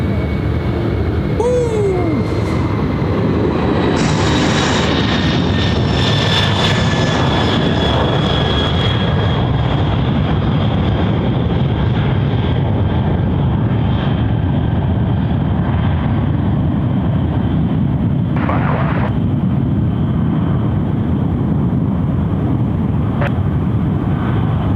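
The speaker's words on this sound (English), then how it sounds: "Here we go, 747." Boeing 747 jet taking off at Sydney Airport in the evening: a loud, sustained roar of jet engines that swells and then slowly recedes into the distance, with faint voices underneath.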